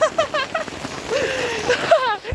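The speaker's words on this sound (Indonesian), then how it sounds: "karena hujan yang cukup besar" Heavy rain on a mountain hike to Gunung Artapela near Pangalengan makes a steady broadband hiss, with voiced, chirping tones rising and falling over it.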